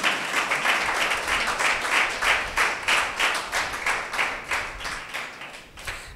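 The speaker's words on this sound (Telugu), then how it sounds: "గట్టిగా చప్పట్లు కొడతారా?" A church congregation claps together, a dense, rhythmic burst of many hands beating in a fairly steady pulse that tapers off toward the end.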